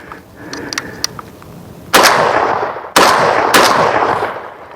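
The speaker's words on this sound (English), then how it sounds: "This is a brand new gun. First time I'm shooting it today." Three sharp, loud gunshots crack from a new PSA AK rifle fitted with a J-Mac muzzle brake at an outdoor range, each followed by a ringing decay, after a few faint metallic handling clicks.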